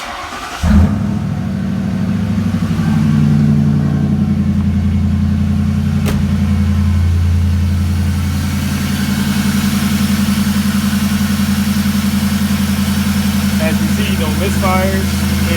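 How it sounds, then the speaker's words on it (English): A Lincoln Town Car engine, fitted with new spark plugs, cranks and catches, then settles into a steady, loud, even idle with no stutter for the rest of the clip. "But we finna crank it up and make sure everything is working."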